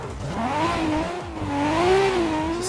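Race car engine in the Assetto Corsa racing game at Forest Park, revving up and down with rising and falling pitch sweeps through gear changes, loud and continuous with faint tire noise.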